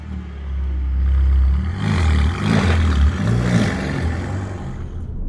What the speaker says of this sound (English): let me show you just how good the GT Black now sounds.